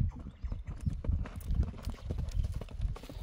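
A horse named Dakan, foal of Güren, walks steadily, its hooves clip-clopping in a regular, fairly quiet rhythm close by.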